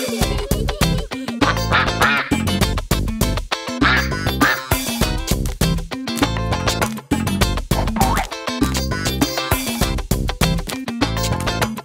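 Cartoon duck quacks pop up repeatedly as sound effects in a children's Old MacDonald farm song, mixed into bouncy music and singing throughout.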